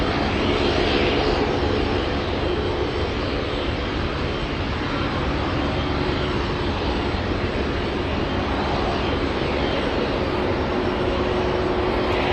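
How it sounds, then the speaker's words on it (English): A Boeing 747 jet at Anchorage airport roars steadily with broad, sustained engine noise and wind, loud and unbroken throughout, with no voices. "Hey, look at that's another 747."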